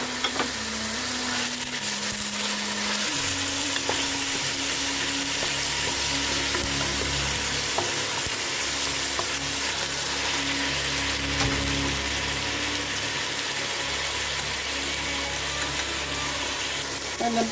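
Onion and tomato frying in a pan as a base for Moroccan couscous, a dense, steady sizzle with stirring scrapes and a low mechanical hum running underneath for the whole stretch, close and loud.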